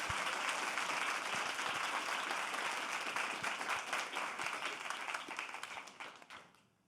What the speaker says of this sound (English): can I ask everyone to give a round of applause to our finalists?